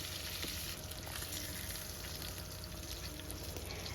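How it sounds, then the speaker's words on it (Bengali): Pieces of fresh rohu fish frying gently in oil after being turned to the second side, a soft, even sizzle that runs on without a break and no one talks. "এইভাবে পাল্টে আরেকটা সাইড ভেজে নিচ্ছি"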